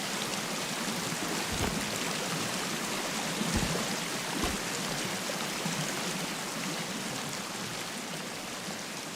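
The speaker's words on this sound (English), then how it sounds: "I hope the waterfall is going to be not too loud." The waterfall in the survival game Sons of the Forest rushes in a loud, steady wash of water noise, unbroken for the whole stretch, with a few low thumps beneath it.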